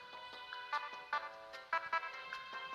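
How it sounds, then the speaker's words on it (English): The Nintendo 3DS eShop theme plays from a hacked DSi as a bright, light electronic tune with bouncy plucked notes, small and quiet, coming through a tiny handheld speaker with no voices over it. "I have the eShop music if you guys can hear."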